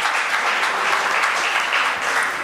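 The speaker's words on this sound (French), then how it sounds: "Applaudissez Olifrana, s'il vous plaît." An audience claps loudly and steadily at a children's choir performance, a dense, continuous wash of applause throughout with no voices on top.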